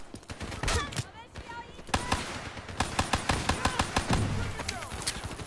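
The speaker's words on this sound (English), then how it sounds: "That's shooting me. Stop shooting me." Rapid gunfire bursts from Call of Duty: Black Ops 3, sharp repeated shots in quick volleys with some irregular single cracks, loud and close, with a voice talking over parts of it.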